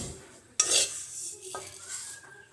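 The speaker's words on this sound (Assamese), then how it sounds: "ঠাণ্ডা হ'বলে এটা বাটিত আপোনালোকে এইখিনি কাঢ়ি থব মই কাঢ়ি থম বাটি এটাত" Roasted sesame seeds scooped from a kerahi pan into a bowl for an Assamese til sweet, with a close scrape and a rattle of metal on metal, then a quieter clink and a faint sizzle.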